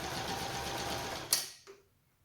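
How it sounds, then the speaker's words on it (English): A Brother 1034D serger stitches along fabric, a close, fast steady mechanical whir that runs continuously, then ends with a brief clack as the machine stops and falls silent. "I'm going to start sewing down again the other side."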